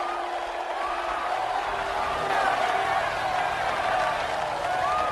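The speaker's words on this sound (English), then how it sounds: "Listen to that crowd." A large crowd roars steadily in a big reverberant arena in the film Robot Jox, a continuous wash of cheering and noise with scattered shouts rising above it.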